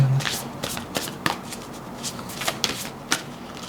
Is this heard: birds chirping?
no